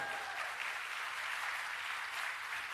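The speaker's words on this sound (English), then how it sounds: "And yes, you can applaud yourselves." Graduates at a college commencement ceremony applaud themselves, a steady dense wash of many hands clapping throughout, fairly distant and even in level with no voices over it.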